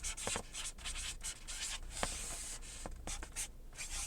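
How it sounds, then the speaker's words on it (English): Pen strokes scratch and rub on paper as a short handwritten message is written, faint continuous scribbling with small taps between words, close and alone. "So I'm gonna write,"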